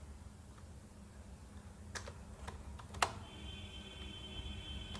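C++ code is typed on a computer keyboard in a few sparse, quiet keystrokes, with one sharper click near the middle, over a steady low room hum.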